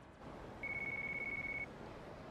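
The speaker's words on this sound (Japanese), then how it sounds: "キャバ嬢から電話かかってきたね" A phone call rings in the video game Yakuza 5 as a single, thin, steady electronic tone lasting about a second, faint over quiet background noise.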